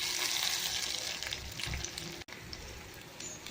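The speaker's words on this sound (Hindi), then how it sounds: "चलिए भिंडी हम फ्राई कर लेते हैं।" Okra sizzles in a hot pan, a steady, close hiss with crackling spatter that runs throughout the clip and breaks off abruptly for a moment before resuming.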